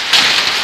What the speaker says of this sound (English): it is a little loud right now with the rain pelting